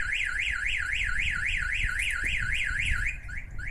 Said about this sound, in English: See, alarm's not turning off